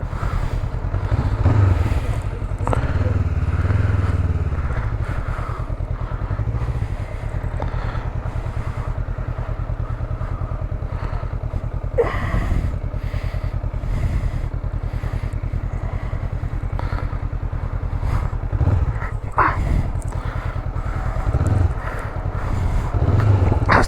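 A motorcycle engine drones steadily while riding, with wind buffeting the microphone and occasional clatter over a continuous low rumble.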